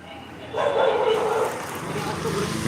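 Street dogs on a morning walk yip and bark at a stray dog, heard as a jumbled burst of barking amid outdoor background noise, moderately close and fading somewhat afterward.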